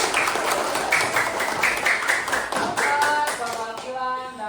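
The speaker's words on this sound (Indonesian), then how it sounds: "Kasih tepuk tangan dulu buat saya" Classroom students clap for their teacher, a burst of fairly close, fast, uneven handclaps that thins out toward the end as a voice begins to speak.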